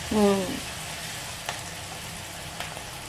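Onions fry in a pan while being turned over, giving a soft, even sizzle with a couple of faint knocks, after a brief voiced tone at the very start.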